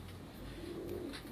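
A large, well-balanced female pigeon being held in the hand, cooing softly and faintly once or twice over a steady low background hum.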